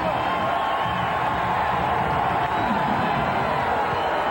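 Arena crowd at a 1999 NBA playoff game between Phoenix and Portland, a loud continuous roar of cheering voices with occasional whoops, steady throughout and heard alone without commentary on top.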